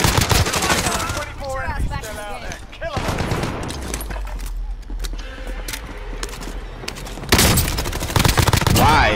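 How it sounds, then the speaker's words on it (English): Rapid bursts of gunfire from the video game Call of Duty Warzone, loud and dense at the start and again near the end, quieter in between, with voices talking over it. "Yo, there's bullets everywhere"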